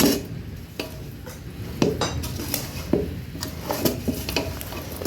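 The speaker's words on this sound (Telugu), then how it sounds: "ఈ గుట్ట మంచిగా మిక్స్ చేసుకోవాలి." Mango pickle being mixed by hand in a metal pot, with repeated scraping clinks and knocks of metal against metal, close and moderately loud, in an uneven rhythm with no talk.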